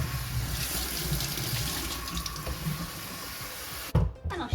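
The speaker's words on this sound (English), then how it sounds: "I'm going to rinse it and boil it a couple of times with just plain water" Plain water runs steadily from a tap over an item being rinsed, a close, continuous splashing rush that stops abruptly near the end with a few clunks.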